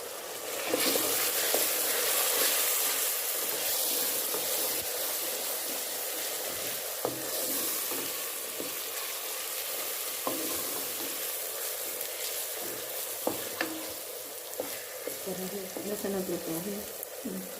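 Spices and red chili frying in a pan for daal qeema biryani, a continuous loud sizzle with occasional scrapes and stirring clicks, and a faint voice in the background near the end.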